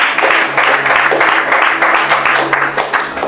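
A church congregation bursts into applause during a Bible teaching, a continuous wash of many hands clapping at close range, loud and even throughout.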